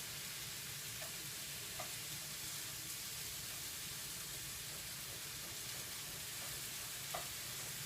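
Food frying in a pan, a quiet, steady crackling sizzle with a few faint clinks, and no one talking.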